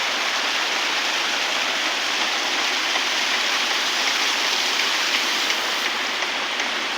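Strong flow of water rushing through a pipe or water intake after several days of rain, a loud, steady broadband roar throughout with no talk.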